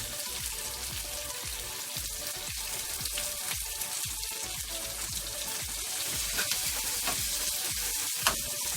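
Saltfish sizzles in a pan for ackee and saltfish, a dense, steady crackling hiss close up with rapid pops and occasional scraping stirs, with no talking.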